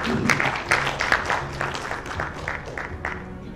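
An audience at a team program in a residency hall applauds a speaker, brisk dense clapping that starts strong and gradually thins and softens over a few seconds.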